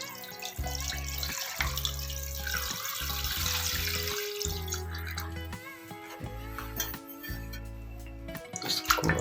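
Water is poured steadily into a pot over raw chicken being readied for a restaurant-style steam roast, splashing and gurgling up close for several seconds with no talking.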